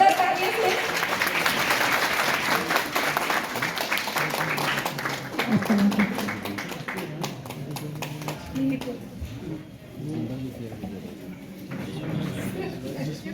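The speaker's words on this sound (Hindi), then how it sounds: "जोरदार तालियों से" An audience at an International Women's Day celebration in Jammu claps to welcome a guest. Fairly dense clapping runs for several seconds, with voices talking over it as it thins out.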